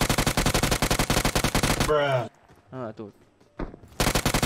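Rapid automatic gunfire from the game PUBG rattles in dense bursts, loud and close, breaks off while a voice speaks briefly, then resumes firing.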